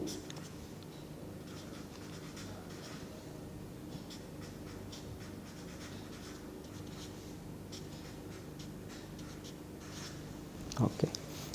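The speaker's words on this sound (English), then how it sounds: "Let me write disproportionation reaction that destabilizes" A pen or chalk scratches out a chemical reaction equation, faint irregular strokes and taps in a quiet room with low background hum, a few louder knocks near the end.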